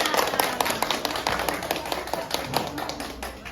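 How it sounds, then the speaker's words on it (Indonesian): A classroom of students claps for a classmate, a brisk, uneven patter of many hands that is fairly close and continuous, with faint voices underneath. "beri tepuk tangan untuk temannya."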